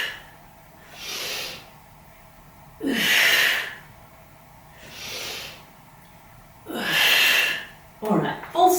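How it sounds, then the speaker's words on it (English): Slow, deep breaths during a Pilates side-plank exercise, four long airy inhales and exhales in a steady rhythm, close and fairly loud, ending with brief sharper breath sounds. "Breathe in."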